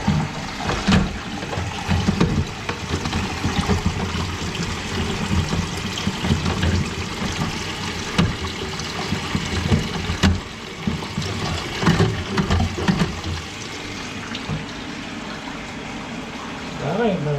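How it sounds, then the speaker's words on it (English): A toilet flush valve that will not shut off keeps running, with water steadily rushing and trickling into the pan and overflowing, a continuous close wash with brief clunks. "I've been flushing them all about 5 times just to make sure, but that one's not turning off for some reason."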